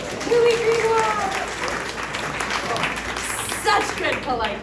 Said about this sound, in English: Such good polite clapping.